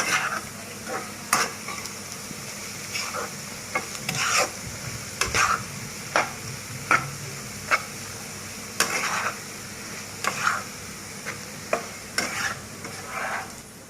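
Cow tripe (bot) slowly frying in a pan after braising, with repeated sharp scraping stir strokes over a steady low sizzle, close and fairly loud, no talk.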